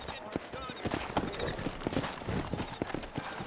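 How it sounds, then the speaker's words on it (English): Steady clip-clop of horse hooves walking at an easy pace in the video game Red Dead Redemption, with a voice talking over the plodding footfalls. "You ain't gonna find sturdier horses than these in all of New Ulster."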